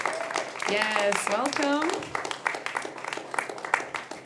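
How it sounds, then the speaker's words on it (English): Audience applause at an opening event, a burst of clapping that carries on steadily after a speaker's brief greeting. "Please, let's keep the applause going when I say the names."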